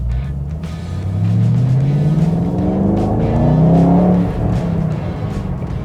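A 2014-era Ford Mustang GT500 muscle car accelerates hard, its loud engine roar climbing steadily in pitch through the gears, heard close and continuous with no talking.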